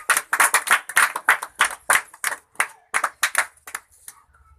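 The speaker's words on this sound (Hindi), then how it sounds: "ताली बजा सब, ताली बजा।" A brief burst of audience clapping at a magician's comedy show, with quick uneven handclaps from a small crowd close by that fade out after a few seconds.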